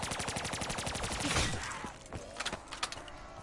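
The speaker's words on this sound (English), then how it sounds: "Yeah, I'm shooting until he comes here." Rapid automatic gunfire in Black Ops 3, a dense burst of evenly spaced shots that breaks off into a few scattered, sharper cracks, loud and close.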